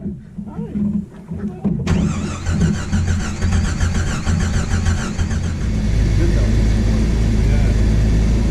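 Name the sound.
Jeep YJ engine cranking and starting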